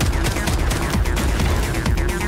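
Rapid bursts of automatic gunfire sound in the shooter game Atomic Heart, loud and close, with dense, repeated shots packed tightly across the whole stretch.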